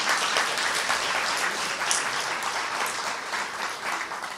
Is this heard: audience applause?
yes